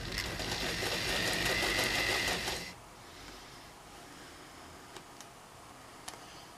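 Sewing machine stitching a canning mat, a fast, busy mechanical whir for about two and a half seconds before stopping abruptly, followed by quiet with a couple of faint ticks.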